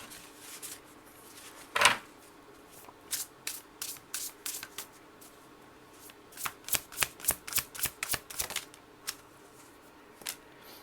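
Tarot cards being shuffled for a reading, a quick riffle followed by rhythmic flicks and slaps of cards in two close bursts, crisp and near, with no talk.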